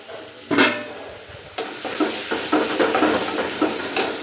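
Ghee crackling and sizzling in a hot pan while making poha, with sharp bursts of spitting and a steady frying hiss underneath, close and fairly loud, alone with no talk.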